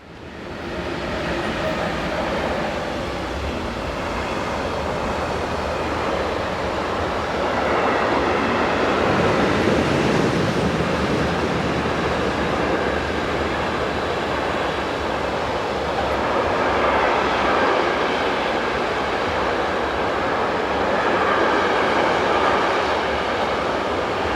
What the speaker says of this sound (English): Class 186s number 109 and 110, head south with train 41023 from Venlo to Melzo Scalo.